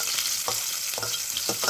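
Chilies, garlic, salt and onions frying in a pan for a sugar cane herb dish, a loud continuous sizzle with a few soft scraping stirs at regular intervals.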